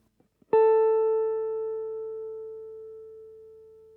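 One electric guitar note is plucked through an Empress Compressor mkII pedal and rings out evenly, with long sustain fading very slowly. Clean and close, with no voice.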